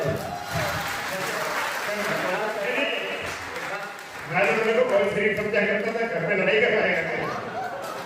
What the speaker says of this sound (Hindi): इस हिम्मत के लिए आपकी एक बार तालियां उठनी चाहिए।